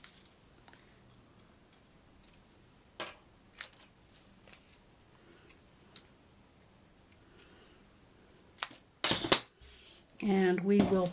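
Scissors trim heat-embossed paper for a handmade card in a bright, close burst of snipping near the end, after scattered soft taps and handling noises over a quiet room.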